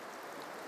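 Water rushes and gurgles in a steady, continuous wash as it flows into a small gold mining sluice box, with rocks guiding the flow toward it. The sound is faint and even throughout.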